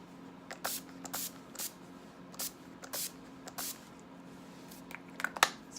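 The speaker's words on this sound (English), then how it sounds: "Spray my spray. Skindinavia, people, Skindinavia." A bottle of Skindinavia makeup setting spray is spritzed in several short, close hissing bursts, about seven or eight in an uneven rhythm with quiet pauses between them.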